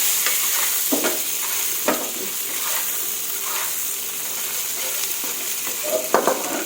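Shrimp stir-fried with garlic in a hot pan, the utensil scraping and tossing in repeated close strokes over a constant bright sizzle.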